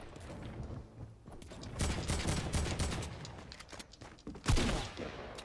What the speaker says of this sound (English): Okay, they're shooting at me.